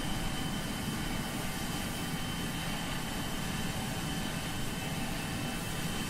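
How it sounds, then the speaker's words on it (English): The Embraer E175 by FlightSim Studio flies in Microsoft Flight Simulator on SkyWest winter operations over Alaska. Its jet engines make a steady, broadband roar with a low rumble, loud and unbroken from start to finish. "Frank, we're flying the Embraer E175 by FlightSim Studio"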